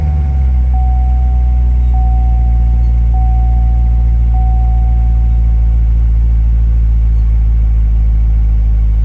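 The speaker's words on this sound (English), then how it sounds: "Let's start it up. We're gonna do a cold start here." A 2014 Corvette's engine on a cold start idles loud and close with a deep, steady rumble, while a faint high tone beeps four times at even intervals.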